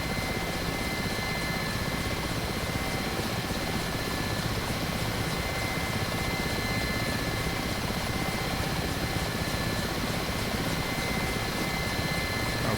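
Steady, loud rotor thrum and turbine whine of a Mi-8 helicopter in the DCS World flight sim, a continuous dense drone with no pauses and no talking.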